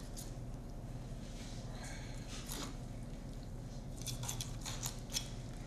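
A knife slicing through the belly of a pike fillet gives soft, wet, crisp cuts in a few brief bursts, close and quiet, with no talking.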